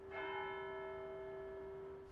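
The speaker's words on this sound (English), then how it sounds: "the church is now considering turning off the quarterly chimes, but keeping the hourly bongs" A church bell in Cambridge rings a single sustained strike with a bright, humming tone and long resonant decay, heard alone and fairly loud for about two seconds.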